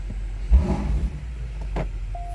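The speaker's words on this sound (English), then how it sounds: "I kind of like the sound better without the exhaust button. It's more raspier. It's like a high revving crazy V8." A BMW M5 Competition V8 engine gives a short throaty rev burst that swells and falls away, followed by a lower idle rumble with a small clatter and a faint electronic tone at the end.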